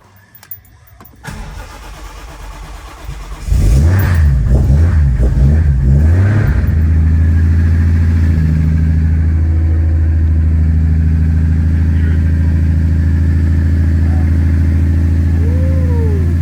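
A Lexus IS300 fitted with a 1.5JZ engine cranks over, fires with a loud burst and revs briefly, then settles into a steady, smooth idle close by, heard alone.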